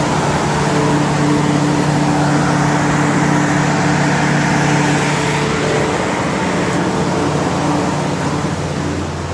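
Alternative power generator trailer running outdoors at a streetcar museum, a loud steady engine drone with a constant low hum and broadband roar that continues unbroken throughout.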